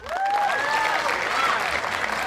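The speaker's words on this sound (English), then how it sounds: "Let's give Dave a round of applause." Audience applause for a guest speaker at a business seminar on seller risk, dense steady clapping from a crowd throughout, with a voice or cheer rising briefly over it near the start.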